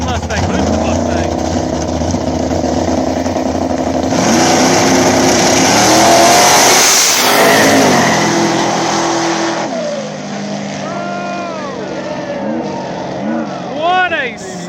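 A nitrous Chevrolet Malibu and a boosted Ford Mustang drag race at a small-tire Ohio track, engines roaring loud and close, rising to a peak as they pass, then easing off into a bouncing, fading rev while an announcer talks over them.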